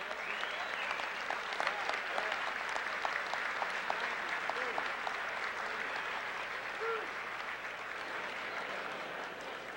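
Sustained applause from a banquet audience at a 1979 College Football Hall of Fame ceremony in the Waldorf Astoria, steady and fairly even for about ten seconds with dense overlapping claps and a faint crowd murmur.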